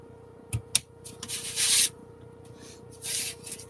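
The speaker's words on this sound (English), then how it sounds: "like that would be totally ASMR to like listen to me sanding stuff" Sandpaper rubbing on a mini magic library build, heard as a few soft scraping strokes with some light taps, fairly quiet and close, with no talking.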